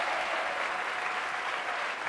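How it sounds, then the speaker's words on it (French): A television studio crowd at a French variety show claps for a contestant, an even, sustained wash of applause at moderate distance with no clear voices over it. "déjà applaudi par la foule"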